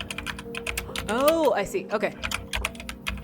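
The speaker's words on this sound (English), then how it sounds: "think I can hear your typing really loudly" Rapid clicks of a keyboard tap away in quick irregular bursts close to the microphone while people talk over them.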